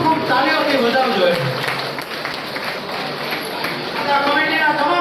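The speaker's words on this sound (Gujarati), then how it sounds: "બધા ખૂબ ખૂબ તાળીઓથી વધાવજો" Sustained applause from an audience at a student award ceremony honouring bright pupils of a community group in Jamnagar, steady and fairly loud throughout, with talk mixed in.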